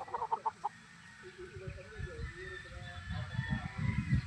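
Gamefowl roosters and chickens on a farm, scattered clucks and fowl calls near and far, with a short burst of rhythmic calls at the start and low rustling noise throughout.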